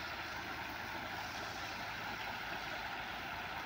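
A double-engine motor pump runs steadily, draining water from a flooded tower foundation site in Amaravati. It makes a continuous, loud, even engine drone with rushing noise and no pauses.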